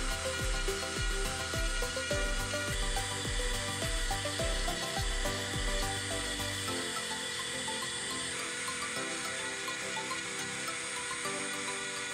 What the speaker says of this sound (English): now I'm gonna switch to the 107 and get the middles cleaned out.